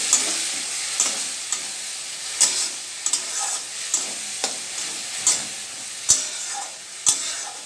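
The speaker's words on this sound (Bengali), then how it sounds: "সর্ষেটা দিয়ে নিয়েছি, এবারে মিশিয়ে দেবো।" Vegetables stirred with mustard in a pan: a steady frying sizzle under repeated sharp scrapes and knocks of the spoon against the pan, roughly once a second, close and fairly loud, with no talking.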